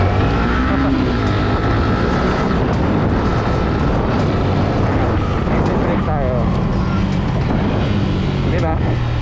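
A Honda Sniper 150 motorcycle fitted with a UMA slipper clutch accelerates hard on a test ride, its loud engine note rising and shifting through revs amid heavy wind rush, with someone talking over it.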